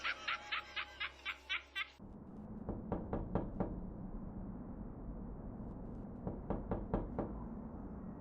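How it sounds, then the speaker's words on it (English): Knocking on a door at night in an animated horror story, heard as two bursts of four or five quick raps a few seconds apart. The raps are moderately close and sit over a low hum, after a brief electronic pulsing at the start. "Someone's knocking at the door."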